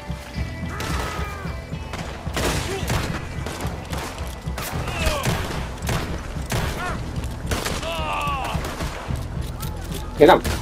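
Bursts of gunfire and impacts crackle through a busy, cluttered soundscape in Red Dead Online, with fainter pops in between.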